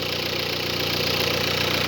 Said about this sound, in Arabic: نسمع خبطات يخبط شغل الانجيكتور